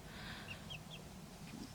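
Ukkel bearded bantam chickens cluck softly in a garden while a rooster chatters, giving a few brief, faint, high calls over a quiet background.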